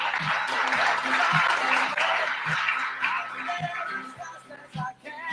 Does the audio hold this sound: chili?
no